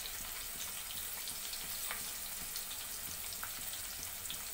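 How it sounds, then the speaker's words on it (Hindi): Moong dal being roasted in a pan with turmeric makes a faint, steady frying hiss with soft grainy crackles throughout. "मूंग दाल डालकर अच्छी तरह से हमने भून लेना।"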